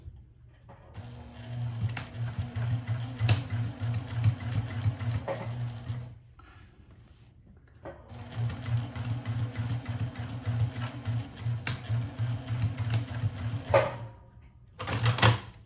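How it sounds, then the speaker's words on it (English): A sewing machine stitches in two long bursts of rapid mechanical whirring separated by a short pause, with a brief third burst at the end; close and fairly quiet. "Okay, I'm here at the sewing machine."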